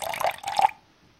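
Waste oil poured into a sink in the Deponia video game, a short wet glugging splash with dripping that stops abruptly after under a second.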